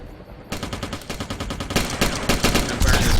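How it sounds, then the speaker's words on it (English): Rapid automatic gunfire in the sci-fi shooter Interstellar Marine, dense bursts of shots in quick succession that grow louder and more intense, with overlapping weapons firing toward the end. "Gunfire in the distance."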